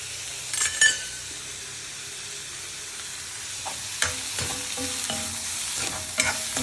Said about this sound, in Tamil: இப்போ நான் வெங்காயம் ஒரு சின்ன வெங்காயத்தை நறுக்கி வச்சுருக்கேன். அதை வதக்க போகிறேன்.